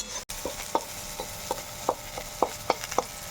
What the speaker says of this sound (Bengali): পেঁয়াজ ভাজার থেকে কিন্তু তেল ছেড়ে দিচ্ছে